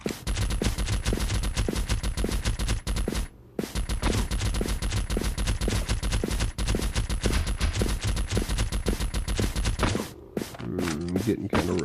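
Rapid, sustained suppressed gunfire from a zombie game, a dense stream of muffled shots that breaks off briefly and resumes before tapering into scattered final rounds, loud and up close.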